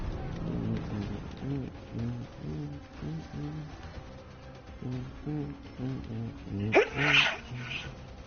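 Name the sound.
sneeze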